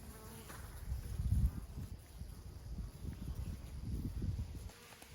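Honeybees droning around two farm beehives outdoors, a steady low buzz that swells and fades as insects pass close by, with no talking.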